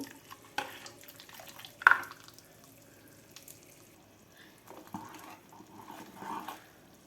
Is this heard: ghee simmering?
yes